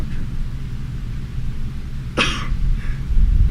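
A single sharp sneeze bursts out in a school district board meeting room, fairly close and brief, over a steady low hum of room noise, with a faint softer follow-up just after.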